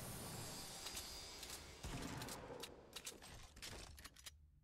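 Faint, distant gunshots in a sniping video game, scattered irregular cracks and short bursts spread across a few seconds under low background ambience.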